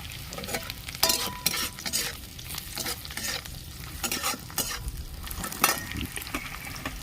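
Chopped carrots, beans, tomato, green chillies and peas fry in a hot pan for spicy pasta, a close steady sizzle broken by repeated scraping and stirring strokes of a spatula.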